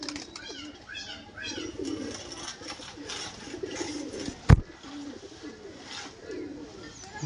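Dari Kamaga pigeons coo in soft repeated low phrases, close by, with a sharp knock or clap partway through, faint chirps and room noise around them.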